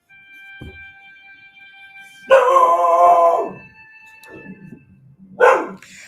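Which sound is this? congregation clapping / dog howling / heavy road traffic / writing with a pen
dog howling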